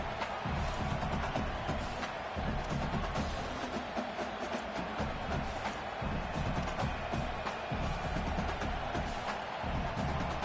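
Stadium crowd noise in the College Football 27 video game: a continuous, broad roar that stays level for the whole stretch, with no clear voices rising above it.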